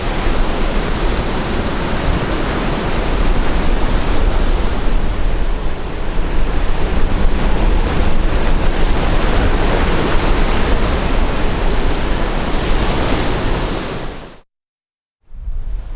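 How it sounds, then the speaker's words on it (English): Big rollers breaking onto a Jersey surfing beach, a loud unbroken roar of surf with wind buffeting, steady for about fourteen seconds before cutting off abruptly. "Fantastic rollers coming in, spectacular as you can see, and really popular for the surfing community."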